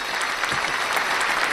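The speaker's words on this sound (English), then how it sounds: "It's not even launched and I'm giving it a clap" Steady, dense applause that sounds like a recorded crowd clapping, filling the whole short moment evenly and loudly.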